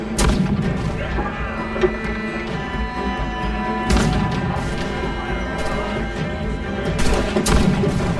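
Repeated booming ship cannon blasts in the video game Assassin's Creed IV Black Flag ring out over a dense, rumbling battle din, with several sharp shots spaced a few seconds apart.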